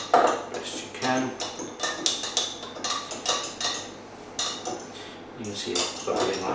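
A spoon clinks and scrapes against a bowl while stirring yeast into lukewarm water for homemade pizza dough, a rapid series of close metallic taps and scrapes in uneven bursts.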